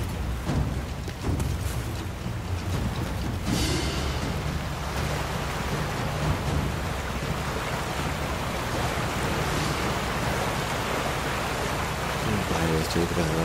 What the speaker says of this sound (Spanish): estoy cruzando el río